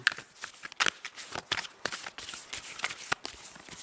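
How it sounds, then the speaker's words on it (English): Tarot cards riffle and slide against each other in soft, irregular bursts of shuffling, quiet and close. "Anybody can shuffle these cards"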